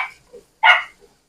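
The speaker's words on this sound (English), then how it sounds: "Oh boy, puppy wants out of her pen." A puppy in her pen gives two short, sharp barks a fraction of a second apart, the second louder, close by in a home kitchen, with quiet between them.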